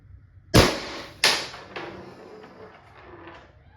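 Two sharp, loud shots from a Valken M17 less lethal CO2 launcher, close together, followed by fainter clicks and mechanical clatter as they fade.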